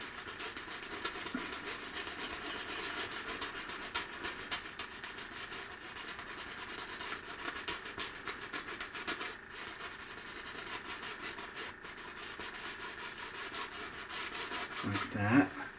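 A palette knife scrapes dark oil paint onto a landscape canvas in a steady, continuous rubbing rasp, close and fairly even for the whole stretch, with a brief louder scuff at the end.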